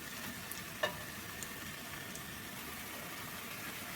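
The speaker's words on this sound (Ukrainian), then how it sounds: "обжарюю цибулю так, щоб була прозрачна" Onion frying in a pan until translucent, a steady quiet sizzle with one faint clink near the start and no voices.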